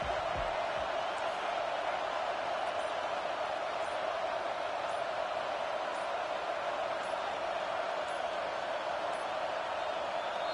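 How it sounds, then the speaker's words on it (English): Stadium crowd roar in a Madden football game on PS5, a steady dense wash of cheering and noise holding at an even level throughout with no break. "Listen to this crowd just shaking the girders of this place"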